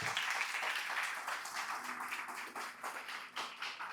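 A congregation at a Portuguese-language Christmas church service claps in faint, distant applause that holds steady for several seconds with a few sharper hand claps standing out.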